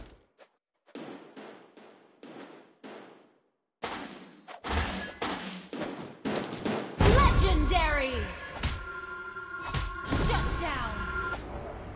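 Rapid bursts of gunfire and booming cannon shots from a tank video game, a quick series of sharp cracks followed by louder blasts, metallic clangs and ringing tones, with game voices speaking in between.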